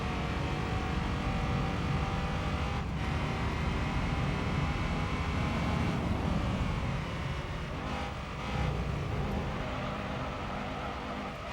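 A racing car's engine revs hard and continuously in Gran Turismo 3 on PS2, a loud, steady drone that rises and dips slightly with gear changes.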